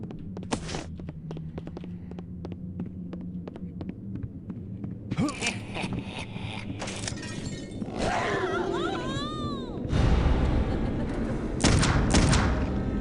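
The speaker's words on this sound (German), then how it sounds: "Oh, jetzt habe ich geschossen." Gunshots fired in the PC game Clive Barker's Undying, built on Unreal Engine 1, ringing out as sharp bursts over a steady low hum and throbbing game ambience, with louder shattering, ringing effects in the later seconds.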